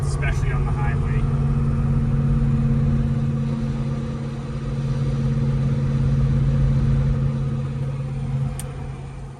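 A 1970 Pontiac GTO Ram Air IV V8 with 3.55 rear gears cruises on a test drive at about 2,000 RPM, giving a steady, loud low rumble throughout, with someone talking over it.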